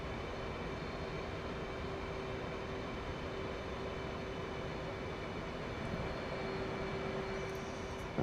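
An F/A-18C jet engine in DCS World holds a steady, loud roar with a constant whine, droning evenly without letup for the whole stretch.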